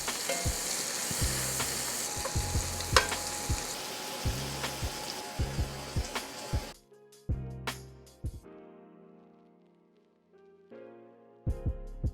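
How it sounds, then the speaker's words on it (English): Vegetables with pepper sizzle and get stirred in a skillet that still holds the flavor of freshly cooked steak. The frying is loud and steady, broken by scraping stirs, and then drops to quieter clinks and handling near the end. "The veggies are gonna get cooked right in that skillet."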